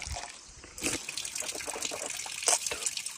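Water pouring continuously from an open pipe with no tap, a steady rushing gush, moderately close and fairly quiet, with no one talking.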